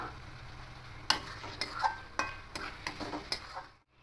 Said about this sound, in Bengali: এবার মাছগুলো এর মধ্যে দিয়ে দেবো।